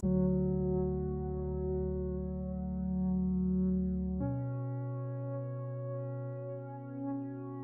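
Sustained keyboard chords run through the Destructor distortion plugin in FL Studio, producing a buzzy, saturated tone that shifts to a new chord midway and holds steadily with no voices.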